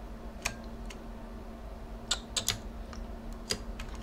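Light, scattered keystrokes on a computer keyboard while working in the UPBGE game engine, arriving in small bursts and single taps over a quiet background hum, soft and close, with no voices.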